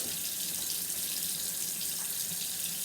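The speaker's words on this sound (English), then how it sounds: "Let's open a cold water." Cold water gushes steadily from a kitchen tap into a sink, a constant broadband rush without pauses, close and fairly loud.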